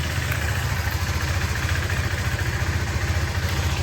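A motorbike engine idles nearby with a steady low putter and a fast even pulse, holding constant throughout with no voices over it.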